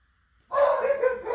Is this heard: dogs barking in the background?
yes